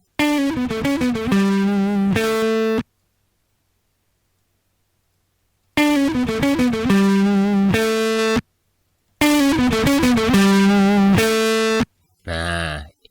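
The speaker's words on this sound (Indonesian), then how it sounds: "Titik-titik ini bisa kita mainkan untuk merubah bagaimana karakter distorsi yang kita inginkan." A distorted, buzzy synth-like tone from a distortion effect in Cool Edit Pro plays a descending then sustained pattern, repeats twice after silences, and ends with a short crunchy burst.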